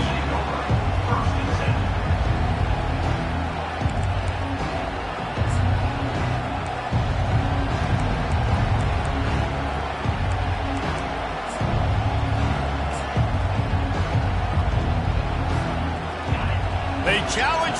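A packed stadium crowd at an LSU football game roars and cheers continuously as a steady wash of noise, with an announcer talking over it.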